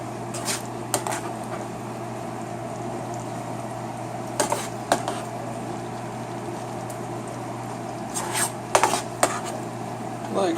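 A slotted spoon scrapes and clinks against a pot while scooping butter chicken, with a few sharp metal taps in clusters over a steady background hum, close and moderately loud.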